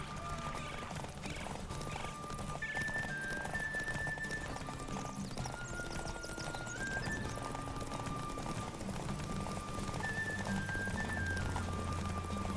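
Horses gallop in a race in The Witcher 3, a steady dense drumming of hooves through the whole stretch, mixed with game music and ambience.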